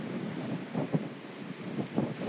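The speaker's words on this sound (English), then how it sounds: "It is still windy and cold." Wind gusting outdoors in cold, snowy Rocky Mountain backcountry, a steady broadband rush with soft swells, close to the microphone and alone without voices.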